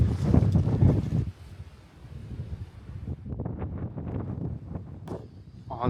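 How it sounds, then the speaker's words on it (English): Strong wind gusts buffet the microphone on top of a high sand dune, a loud roaring rush that eases briefly before returning in choppy bursts. "from all the wind blowing right now, you can see the sand blowing right off"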